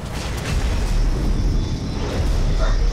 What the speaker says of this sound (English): Shoot, something's falling. Oh, yeah, that's the crane.